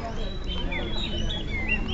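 Small songbird chirping at a bird-singing contest in Singkil, with quick high twittering calls repeating over steady crowd murmur and background chatter.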